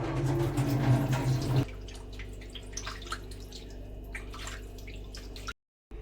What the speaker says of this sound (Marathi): स्वच्छ पाण्याने धुवून घेऊ. हे पिठाचं पाणी निघून जात नाही तोपर्यंत आपल्याला ही धुवायची आहे.